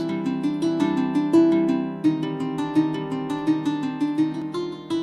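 A plucked lyre plays a steady melodic pattern of clear, dry notes, each attack distinct and decaying quickly without added ambience.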